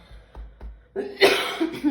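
A single harsh cough bursts out close up, preceded by a couple of soft throat sounds, with no talking.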